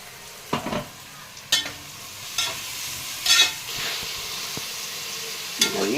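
Onions and green chillies frying in a pan for baghara rice, a steady close sizzle broken by several bright bursts of hissing and scraping stirs, with a few knocks of a spoon.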